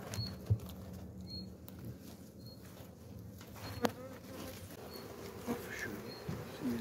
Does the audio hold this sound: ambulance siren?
no